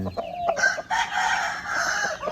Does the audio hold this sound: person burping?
no